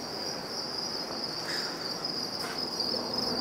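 Crickets chirp steadily and densely throughout a warm feeder-insect breeding room that also houses cockroaches, mealworm beetles and Zophobas, a continuous high shimmering trill filling the space with no talking.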